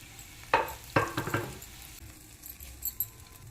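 Powdered wheat bread roasting in ghee in a pan for a jaggery halwa. Soft close sizzling comes with brief scraping stirs, a few clear bursts early on and then a quieter patter.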